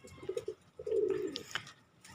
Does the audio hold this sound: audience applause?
no